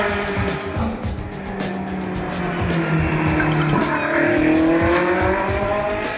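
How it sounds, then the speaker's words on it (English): A Ferrari 458 GT3 race car's 550-horsepower V8 roars steadily at high revs, its pitch sweeping upward as it accelerates, with a faint squeal of tires underneath. "Ferrari engine, V8, developing 550 horsepower with that unique Ferrari sound."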